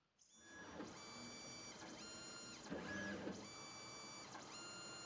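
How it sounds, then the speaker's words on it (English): A 3D printer prints parts for a Tower of Hanoi puzzle box. It starts from near silence, then its stepper motors sing in shifting, sweeping tones, close and clear, with brief pauses between moves. "the printer up, and it'll proceed to print."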